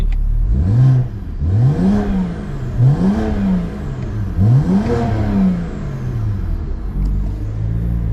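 A turbocharged car engine revving repeatedly with laggy boost, four or five rising-and-falling rev sweeps in a rhythmic pattern, loud and close, with a steady engine drone between them.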